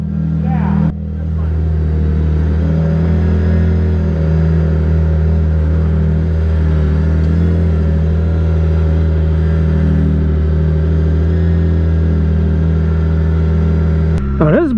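A BMW K1600B Option 719 Midnight Bagger motorcycle is ridden, giving a loud, steady engine drone with rumble that stays continuous and close throughout, with a brief change near the end.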